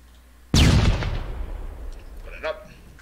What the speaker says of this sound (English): And I can bang and clear, and I'll do it with the stun grenades.